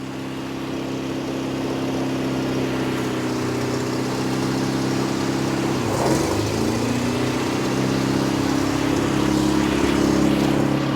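Engine of an abandoned 1983 Toyota four-wheel drive barn find idling steadily, with a brief clunk and pitch dip around midway as it goes into gear, then running on evenly and close.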